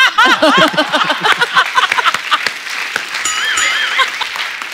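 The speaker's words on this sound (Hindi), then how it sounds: "और एक बार जोरदार तालियां हो जाएं अजय सर और काजल मैम के लिए" Studio audience on The Great Indian Kapil Show applauding for Ajay Devgn and Kajol, a dense wash of clapping with whoops and cheers over music-like tones in the first seconds, fading slightly toward the end.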